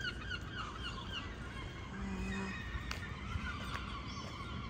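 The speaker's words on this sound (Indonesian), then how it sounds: "Oh, banyak burung-burung loh." Geese or similar fowl honk at a distance in Ocean City at sunrise, a few faint calls over steady outdoor street ambience.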